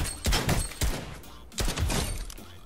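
Gunshots in a shooting video game ring out as a few sharp, loud reports in two clusters with a short gap between them, near and punchy.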